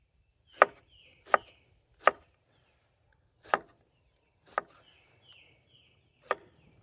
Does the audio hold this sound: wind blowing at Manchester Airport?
no